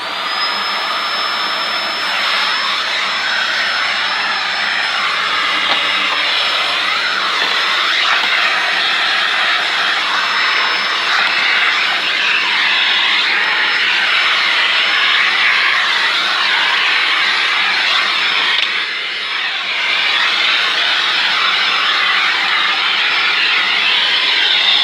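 A vacuum cleaner runs steadily and loudly the whole time, dusting out the cyclone head of a Dyson DC04, its broadband motor whine constant with only slight dips.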